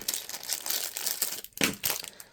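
A plastic package being cut open with scissors, giving close, crinkly crunching and rustling that runs continuously for a couple of seconds with a brief snip-like burst near the end; quiet, no talking.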